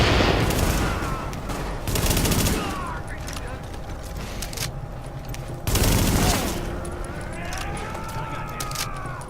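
Bursts of automatic gunfire in a firefight from The Division video game, with loud volleys roughly at the start, around two seconds and near six seconds, over a steady backdrop of game ambience and distant shooting.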